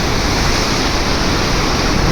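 Large pump outlets at Mallanna Sagar reservoir send a loud, steady, broadband roar of rushing water, continuous and close, with no break in its wash.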